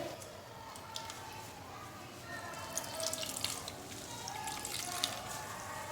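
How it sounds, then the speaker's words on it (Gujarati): Grated raw mango is squeezed by hand to press out its juice, giving a faint, uneven trickle and scattered drips of liquid falling close by. "છીણમાંથી આપણે બધું જ પાણી નીચોવી લેવાનું છે અને છીણને એકદમ કોરું કરી લેવાનું છે"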